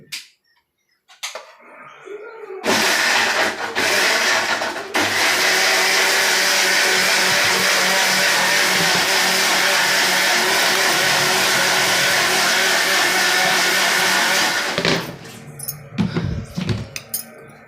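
Mixer grinder churning mango pulp with added water into juice, a steady loud whirring grind running continuously for about twelve seconds, starting abruptly and cutting off near the end with brief clatter.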